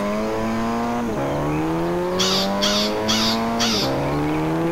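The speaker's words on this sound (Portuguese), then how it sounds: "Vou deixar eu andar com o veículo aqui." A car in GTA San Andreas drives along, its engine note rising steadily through gears with clear shift drops, while a higher repeating chirp pulses four times in the second half.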